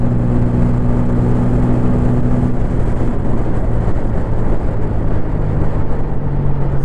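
A 2024 TVS Apache RTR 160 4V motorcycle cruising in fifth gear gives a loud, constant engine drone mixed with heavy wind roar, heard from the rider's position without a break.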